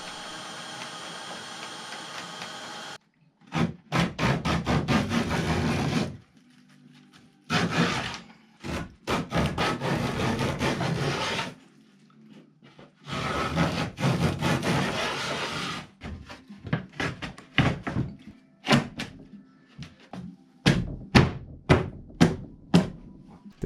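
Wooden boards are sawn by hand in an indoor room, with long runs of quick, rhythmic back-and-forth strokes broken by pauses. The clip ends with a few separate wooden knocks.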